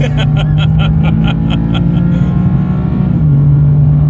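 A BMW M4 CS engine drones loudly from inside the cabin, a steady low growl that holds constant with a slight drop in pitch near the end, rhythmic ticking above it.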